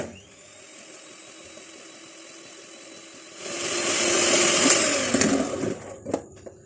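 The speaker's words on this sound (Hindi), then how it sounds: "बारी बारी इसमें एक एक अंडा डालेंगे और इसको बीट कर लेते हैं" Electric beater whirring through butter, sugar and egg for mocha brownie batter: a steady motor hum that swells louder midway as the beaters dig in, then rattles and clicks briefly before stopping.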